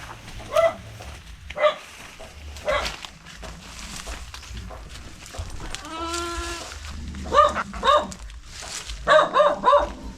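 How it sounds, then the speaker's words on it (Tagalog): A goat bleats several times at a rural home, short repeated calls spaced across the clip, clustering near the end, with one longer drawn-out bleat midway and faint background noise. "May kambing ba? Kambing dito."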